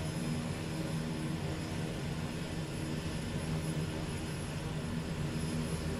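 Propeller aircraft engine in Microsoft Flight Simulator, a steady, continuous drone with constant loudness and no speech.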